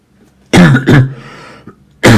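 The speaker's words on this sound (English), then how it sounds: "I do have a bit of a cough and a cold." A person with a cold coughs in two harsh bursts, clears the throat with a rasp, and then coughs loudly again. The sounds are close and there is no talking.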